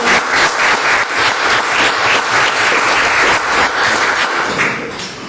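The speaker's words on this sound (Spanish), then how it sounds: "Entonces, un aplauso a Karen." Loud, full audience applause at a book presentation, many hands clapping in a dense continuous roar for about five seconds before it starts to thin and fade at the end.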